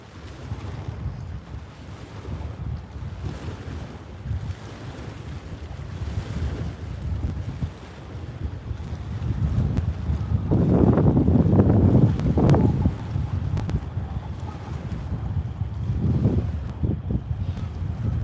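Strong wind buffets a boat out on icy open water, a rough roaring rush with gusts swelling louder midway and again near the end, alone without any voices.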